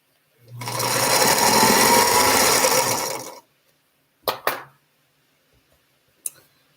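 A sewing machine stitches a quilted chicken late at night, running steadily for about three seconds before stopping, followed by a few short clicks and brief whirs.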